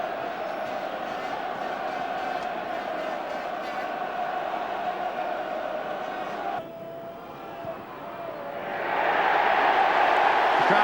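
A rugby crowd roars and cheers after a try at the 1993 Pilkington Cup Final between Harlequins and Leicester, a loud sustained stadium din that dips briefly and then swells even louder toward the end.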